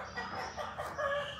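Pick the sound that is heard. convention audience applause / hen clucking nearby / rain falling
hen clucking nearby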